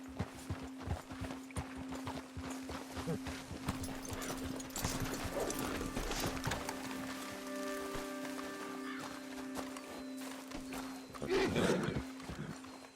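Steady clip-clop of horse hooves in Red Dead Redemption 2 over a busy game soundscape, with a low constant hum and some tonal music swelling in the middle.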